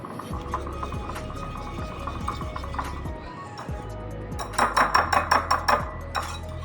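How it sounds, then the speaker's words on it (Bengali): Beaten eggs and milk for French toast whisked in a bowl, a fork clinking against the sides in quick, regular strokes that grow louder toward the end. "ভালো করে ফেটিয়ে দিলাম।"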